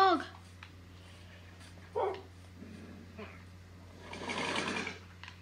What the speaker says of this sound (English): No, there's a dog.